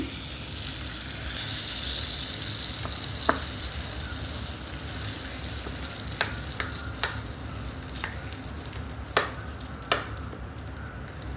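Tempering (popu) sizzles in hot oil for gongura chutney, a steady close hiss with a few sharp clicks and scrapes scattered through it.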